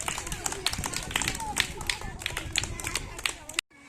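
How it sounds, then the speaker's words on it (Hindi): Schoolchildren in a classroom clap together, giving a dense, lively run of quick claps with voices mixed in, then a sudden cut to silence. "ताली बजा दीजिए।"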